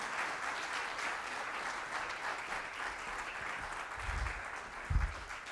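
Sustained applause from an audience at an agricultural innovation challenge event, steady and full for the whole stretch, with a couple of low thumps near the end.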